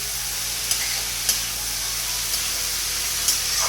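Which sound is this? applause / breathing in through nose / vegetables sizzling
vegetables sizzling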